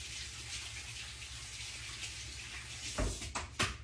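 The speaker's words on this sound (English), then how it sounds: "I'm going to wash my hands" Water from a kitchen tap runs steadily as someone washes their hands, a soft continuous broadband hiss with a few louder splashes and clatters near the end.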